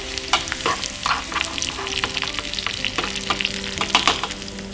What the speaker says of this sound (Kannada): ಒಂದು ಸ್ವಲ್ಪ ಬೆಳ್ಳುಳ್ಳಿನ ಜಜ್ಜಿ ಹಾಕ್ತಾ ಇದ್ದೀನಿ, ಸ್ವಲ್ಪ ಒಣಗಿದ ಮೆಣಸಿನಕಾಯಿ